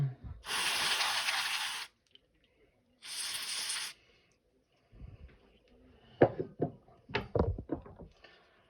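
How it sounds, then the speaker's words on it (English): Two bursts of aerosol spray hiss on a new nitro engine's back plate, the first longer than the second, separated by a pause and followed by scattered clanks and handling noises. "I'm going to spray down the back plate."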